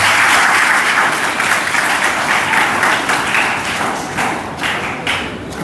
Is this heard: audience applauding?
yes